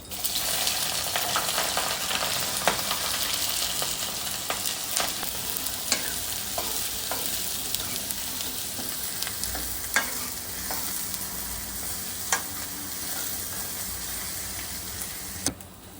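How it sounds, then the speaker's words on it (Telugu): Onions and green chilies sizzle and crackle in hot oil as they are stirred in a pan for a chicken curry, with scraping utensil clicks recurring over a steady frying hiss throughout, close and fairly loud. "సో ఇప్పుడు అందులో అరిమిర్చి అండ్ ఉల్లిగడ్డ వేస్తున్నాను"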